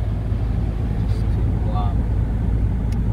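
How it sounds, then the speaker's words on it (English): A car driving along the beach at Padre National Seashore, a steady low engine and road rumble running throughout, with brief faint chirps above it. "And now we're driving on the beach."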